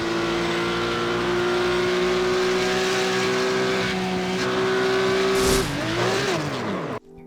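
A Porsche 911 GT3 Cup race car engine in the iRacing sim at Interlagos, holding a steady high-pitched drone for several seconds, then dropping and rising in pitch before cutting off abruptly.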